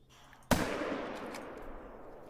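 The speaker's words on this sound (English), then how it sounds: "How many times am I gonna shoot you in the same spot?" A single sharp rifle shot fired at a bison in The Hunter: Call of the Wild, a loud close crack with a long decaying echo trailing off over two seconds, with no talk.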